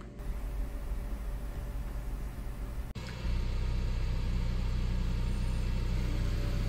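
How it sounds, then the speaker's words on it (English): Ford Bronco engine idling steadily, cutting out briefly around the three-second mark, then restarting and settling into a louder, even idle rumble with no talking. "I turn the vehicle off. Give it a few seconds and then turn it back on."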